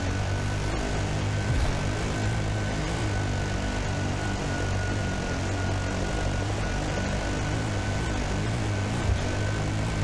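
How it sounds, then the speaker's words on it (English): A helicopter flying overhead during a desert rally stage gives a loud, steady engine drone with rotor chop, continuous and close, with no speech. "This helicopter's really sailing above me."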